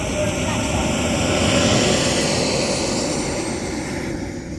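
A fully 3D printed model jet on its maiden flight makes a steady, loud whooshing roar that holds for several seconds, with faint voices underneath.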